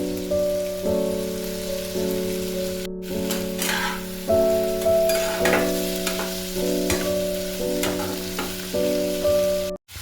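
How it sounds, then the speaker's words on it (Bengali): Chopped tomato and salt frying in a pan for Birbhum-style aloo posto, with a steady sizzle and soft scraping stirs over a constant low mechanical hum, close and moderately loud, ending in a sudden cutoff. "একটু ভেজে নেব এরপরে কুচো করে রাখা টমেটোটা এর মধ্যে দিয়ে দেব"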